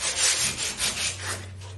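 Sandpaper of 80 grit scrubs body filler on a car hood scoop in a few quick, close back-and-forth strokes with a rough, rasping texture.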